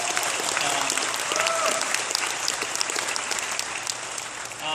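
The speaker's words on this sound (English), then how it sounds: "Yeah, I'm going to applaud that." A crowd gives a sustained, even round of applause, many hands clapping together at moderate volume from start to finish, with faint voices mixed in beneath the clapping.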